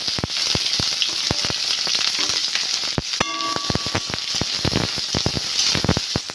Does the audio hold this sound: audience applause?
no